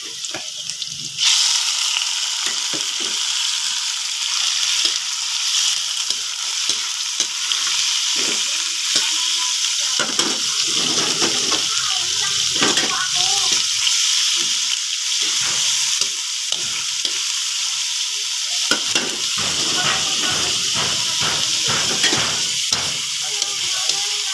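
Onion and garlic frying in a pan with loud, steady sizzling that starts abruptly, broken by frequent scraping and clattering of a spatula stirring throughout.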